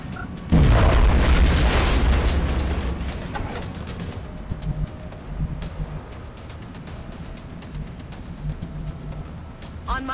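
A frag grenade blast in the XCOM Enemy Within video game lands with a loud, deep boom, then fades into a rumbling tail beneath scattered clatter and game sounds.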